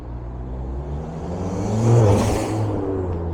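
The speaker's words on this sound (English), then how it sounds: "Sorry, excuse the car noises." A car passes near a dock construction site on a windy day, a broad rumbling whoosh that swells to a peak around the middle and then eases off, steady road and wind noise underneath.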